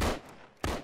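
Two sharp gunshots in a tactical military shooter game, a loud blast with a fading tail, then a second equally loud report about half a second later, with no talking.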